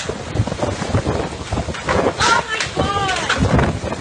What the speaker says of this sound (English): Getting windy. Really windy.